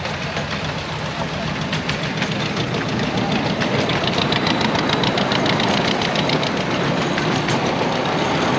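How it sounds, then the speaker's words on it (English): A train passes a level crossing in Austria, heard from an e-bike waiting at the crossing: a loud, steady rumble with rhythmic clattering runs throughout, with no talking. "Oh, gotta stop for the train."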